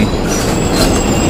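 An Amtrak Silver Star train idles at Orlando station, giving a steady, loud broadband rumble with a faint high whine and no clear wheel movement.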